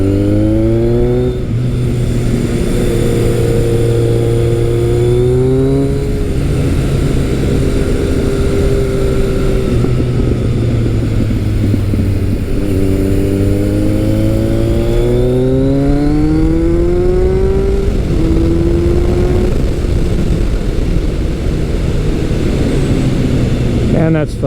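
A motorcycle engine accelerating repeatedly, its pitch climbing through gear changes, loud and close throughout.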